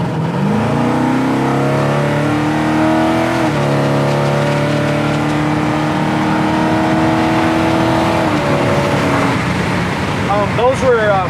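A 1966 Chevrolet Impala SS V8 pulls hard and close, its engine note climbing steadily through two upshifts at 4,800 RPM, with each shift dropping the pitch before it rises again.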